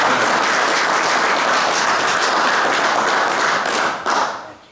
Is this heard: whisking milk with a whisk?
no